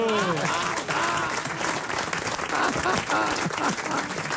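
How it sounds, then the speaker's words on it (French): A studio audience at a French comedy radio-TV show breaks into sustained applause, dense steady clapping with faint voices mixed in, lasting a few seconds. "On l'applaudit quand même."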